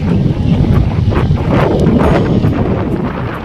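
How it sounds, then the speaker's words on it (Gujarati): Strong wind buffets the microphone beside a wide lake in Yellowknife, Canada, a loud, continuous low rumble with gusty swells and no voices. "અત્યારે જબરજસ્ત પવન ફૂંકાઈ રહ્યો છે"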